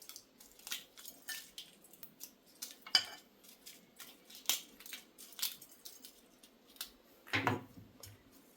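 Dried red chillies are cut up for tempering, making quiet, irregular dry clicks and snips at close range, with a slightly louder clatter near the end.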